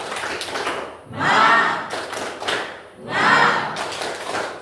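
Classroom group doing a rhythmic clap chant as an ice breaker, with two loud shouted bursts separated by patterned clapping, close and energetic.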